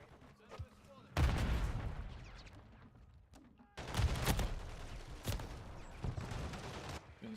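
Gunfire in a Call of Duty match, with bursts of rapid shots and booming impacts coming in clusters separated by quieter gaps, loud and dense, with some faint voices in the background.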